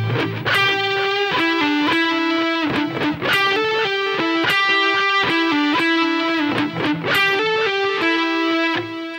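Distorted electric guitar plays a riff: a continuous, fast run of bright, repeating picked notes in a steady looping pattern, loud and close, with no voice.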